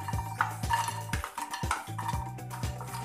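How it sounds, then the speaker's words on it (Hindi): Fox nuts (makhana) tumbled into a pan and stirred, a steady rattling and scraping of the light puffs against metal over a constant low hum, close and continuous with no talk. "और अब आप इसमें मखानों को डाल दीजिए।"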